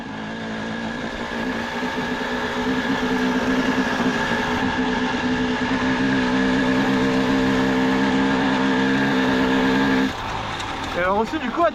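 A 2004 KTM 250 EXC dirt bike ridden on an outing, its engine droning steadily with harmonic layers for about ten seconds before cutting off, followed by brief rustling.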